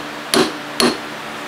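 Two light hammer taps land on a drill press part, each a short sharp knock with a brief ring, evenly spaced and close up with no talk.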